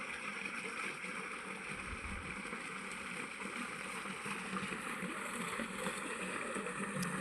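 Irrigation water runs through a farm field channel early in the morning, a steady close rushing and gurgling flow with no pauses.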